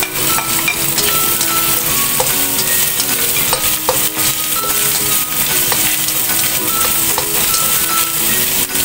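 Cubed, briefly boiled chicken sizzles with cauliflower in a stir-fry, steady frying hiss under repeated scraping and tapping of a utensil against the pan, with no talk.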